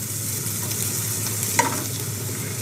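Chopped onions sauté over medium heat in a pan with a constant close sizzle and one brief spoon clink near the end, with no voices.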